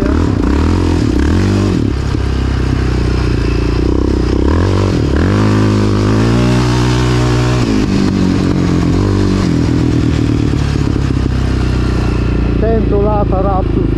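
A Suzuki Raptor motorcycle engine drones loud and close throughout a ride, revving up and down with gear changes. Wind buffeting and rattling run underneath.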